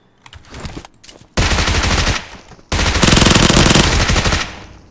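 Automatic rifle fire in PUBG Mobile on the Erangel map, long loud sustained bursts of rapid shots, a short burst first and then two extended volleys separated by a brief pause.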